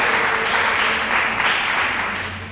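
A church congregation claps for the Lord, a dense, steady wash of applause that stays loud and even throughout, with no other sound rising above it.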